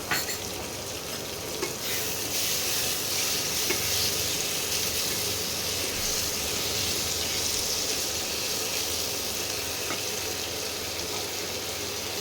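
Ginger-garlic paste is stirred into softened tomato and onion in a hot pan, giving a steady close sizzle and broad frying hiss that runs unbroken with no talking.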